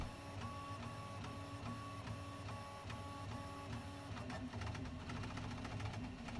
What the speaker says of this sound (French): Là, c'est vraiment le bruit du ventilateur